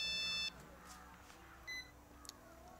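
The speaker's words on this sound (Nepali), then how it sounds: "ए फोन पनि आयो।" A phone ringing indoors gives two short electronic bursts, the first at the start and the second after a pause, both faint over a quiet background.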